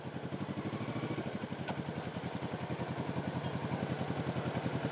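Several motorcycles, among them a Honda, run close by with a steady low engine rumble and rapid pulsing exhaust beats that continue throughout, one bike's note shifting partway through.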